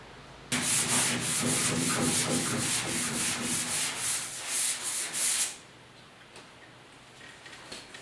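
A 1972 Ford 4x4 short truck box being hand-sanded with 320 grit sandpaper: about five seconds of loud, rhythmic back-and-forth rasping strokes, close by, then quiet with faint knocks.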